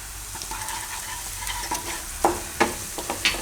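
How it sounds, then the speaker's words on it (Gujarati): Onions frying in hot oil as asafoetida goes in for a Gujarati lilva odo dish, a steady close sizzle with several sharper crackling bursts and spoon scrapes toward the end, no voices. "આમાં હિંગ નાખી દઉં"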